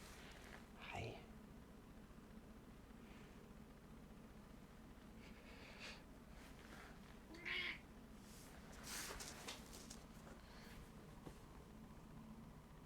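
A house cat meows a couple of times during a quiet indoor yoga session, brief and fairly close, with a soft voice speaking now and then and a low steady background hum.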